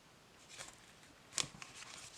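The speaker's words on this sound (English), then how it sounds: "So I can ruffle shuffle this" A tall, flexible tarot card deck is ruffle shuffled, giving a soft papery riffle burst followed by a brief sharper flutter of cards snapping together, faint and close in a quiet room.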